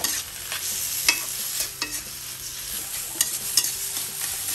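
Taro leaves frying with small shrimp in a pan, scraped and stirred with a utensil in repeated sharp strokes over a constant close sizzle, with no talk.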